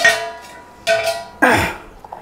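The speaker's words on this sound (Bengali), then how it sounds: "ঢাকনাটা খুলে দেখব" A lid comes off a container of paratha dough, making three sharp plastic clacks and rattles in quick succession, close and clear, with a softer tap at the end.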